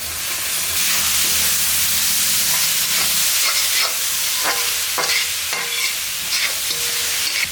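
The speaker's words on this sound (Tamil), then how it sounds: "நம்ம கார்ன் வந்து உரித்து நல்லா கழுவி வச்சுருக்கோம் இல்லைங்களா, அதை எடுத்து போட்டுடலாம்" Sweet corn kernels are tipped into a hot frying pan with egg and stirred, giving a loud, continuous sizzle broken by several sharp scraping strokes of the spatula, with no voices.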